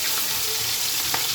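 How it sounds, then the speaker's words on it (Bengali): Rui fish frying in mustard oil in a kadai gives a steady, close hiss of sizzling with no talk over it. "আমি একইভাবে আবার মাছগুলো উল্টে দেবো। দেখুন, মাছটাকে ভাজার আগে সরিষার তেল দিবেন"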